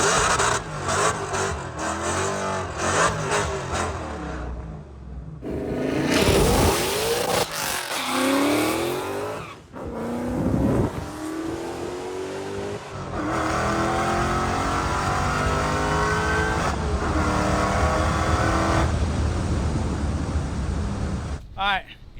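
Dodge Demon running on nitrous with new tires spins them through a drag pass: loud sustained engine roar with revving bursts and screeching wheelspin, cutting out briefly midway, and people talking over parts of it.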